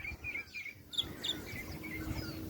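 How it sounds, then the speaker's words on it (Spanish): A woodpecker calling among other birds in the wild, with short repeated chirping notes at moderate distance over a low steady background hum. "Pájaro carpintero de esta zona."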